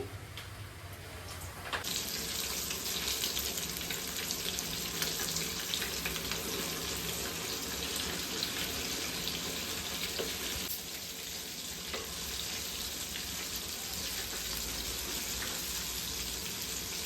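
Four flour-coated chicken leg pieces deep frying together in well-heated oil, KFC-style, give off a loud, steady, dense hiss. It starts abruptly after a brief quieter moment and continues alone without talk.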